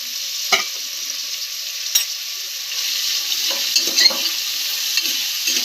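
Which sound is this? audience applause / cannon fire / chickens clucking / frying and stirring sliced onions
frying and stirring sliced onions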